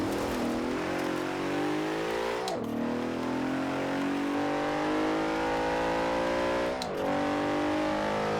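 In Forza Horizon 4, a car carrying the engine from the Audi RS6/RS7 revs hard and climbs through the gears, its loud, rising engine tone dropping sharply at two quick upshifts before pulling up again.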